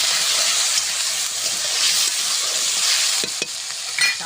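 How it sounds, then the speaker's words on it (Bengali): Potatoes frying in a pan with salt and turmeric give a steady, loud sizzle and hiss throughout, with a few brief stirring scrapes near the end and no talking. "লবণ হলুদ গুঁড়ো, আলুটা সুন্দর করে ভেজে নেব।"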